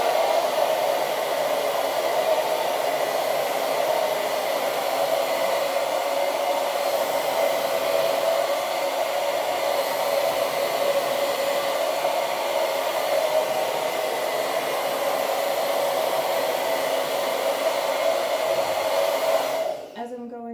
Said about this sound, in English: try not to blow dry like you're shooting upwards